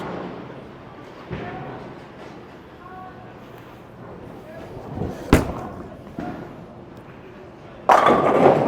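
A bowling ball thuds onto the lane and rolls with a low, steady rumble, then smacks into the pins with a sharp crash and a clattering scatter near the end, while someone talks over the alley background.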